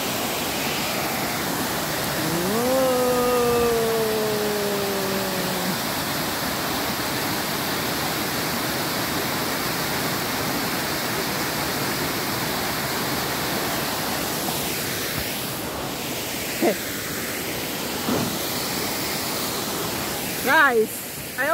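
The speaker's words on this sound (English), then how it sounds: "It's a waterfall, but then it's bigger than bigger this." A large waterfall pours as a steady, broadband rush, continuous and fairly loud, with a few brief voice-like tones and knocks on top.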